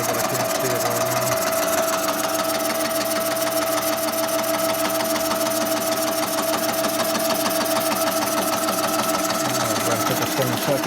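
A Kwik-Way boring bar cuts a brazed 1948-65 Harley panhead cylinder, giving a steady, close mechanical drone with a fast, even chattering pulse that runs without pause, and no one speaking.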